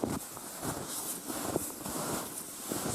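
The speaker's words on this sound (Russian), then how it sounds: "Холодно, холодно, холодно, ветер сильный и холодный." Strong, cold winter wind during a January hike in a pine forest, a steady broadband roar with gusty swells and rustling, close on the microphone with no speech.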